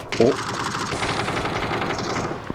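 Rapid automatic gunfire rattles in a video game, a dense burst starting loud and continuing steadily, with a player's voice briefly heard at the start.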